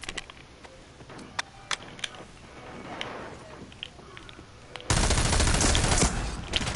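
Sniper gunfire in a shooter video game: scattered sharp cracks for several seconds, then a sudden loud sustained burst of fire, close and punchy, with no talk.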